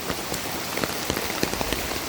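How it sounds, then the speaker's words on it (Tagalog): Sudden rain falling in a rural provincial setting in Bohol, Philippines, a steady hiss of drops striking surfaces with scattered louder pattering hits close by, no talking. "bigla kasing umulan."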